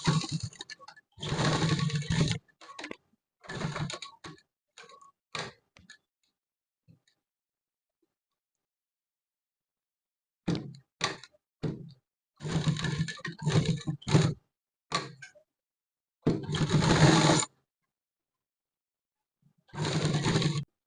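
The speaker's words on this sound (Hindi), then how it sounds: "मैं तो यहाँ पर डबल सिलाई लगाऊंगा, एक ऊपर एक नीचे" A sewing machine stitches along a sleeve cuff edge in separate bursts of rapid mechanical whirring, with long silent pauses between runs.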